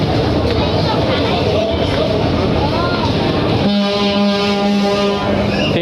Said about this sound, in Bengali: তিনটা হরেন দিয়ে দিল আর সঙ্গে সঙ্গে কিন্তু ব্যাক গিয়ার করে দিল।